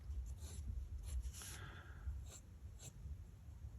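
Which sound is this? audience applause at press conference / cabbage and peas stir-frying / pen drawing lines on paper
pen drawing lines on paper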